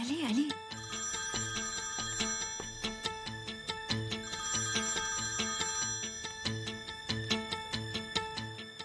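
A telephone rings repeatedly in a drama scene, a steady rhythmic electronic ring with regular pulses that continues throughout, close and fairly clear, with music and faint voices underneath.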